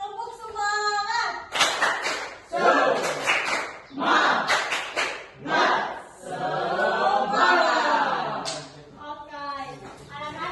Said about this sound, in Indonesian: Sekali lagi ya. Tepuk semangat.